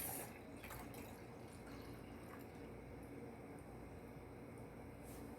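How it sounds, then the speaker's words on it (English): Jack Daniels whiskey poured into a glass, a steady, soft liquid trickle running continuously for a few seconds at close range with no talking. "I'm also going to be drinking some Jack Daniels. I'm going to just pour it in a"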